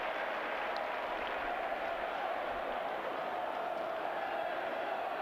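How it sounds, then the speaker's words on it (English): Dulwich College fans applaud at an under-18 school rugby cup final, a steady, fairly faint wash of distant clapping and crowd noise that continues evenly throughout. "massive round of applause from the Dulwich fans"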